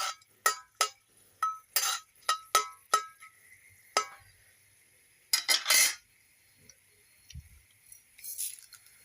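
A metal spoon clinks and scrapes against a pan in a quick series of sharp knocks while whole spices, bay leaf, cinnamon and cumin, are stirred for a lauki and chana dal dish, followed by quieter clatter and a pause.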